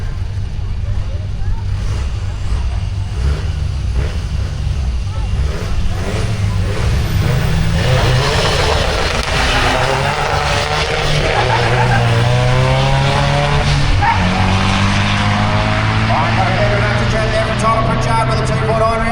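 Toyota Hilux and Isuzu D-Max racing each other in a 4WD drag race at Benaraby, with rumbling engines revving and accelerating, loud but partly distant, under a race commentator talking throughout.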